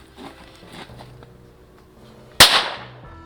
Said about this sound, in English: So I put inside this caliber 22 Flaubert, and so now I am prepared for shooting.